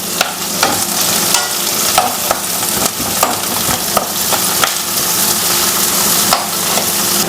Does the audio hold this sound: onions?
yes